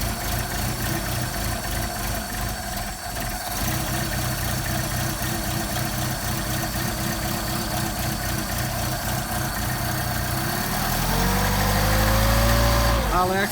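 Mercedes 190SL engine with rebuilt Solex carburetors running at fast idle: a steady, loud, close mechanical drone with a clear pulsing rhythm, rising in pitch and level near the end as the revs climb, with no talk.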